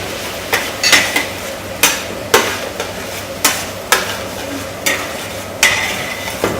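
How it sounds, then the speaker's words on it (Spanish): Rice and sweet paprika are being fried for a seafood paella of prawns and cuttlefish, a soft sizzle broken by repeated sharp scrapes and knocks of a utensil against the pan, roughly every half second to second. "añadimos el pimentón dulce. Perfecto. Vamos a sofreírlo bien sofrito."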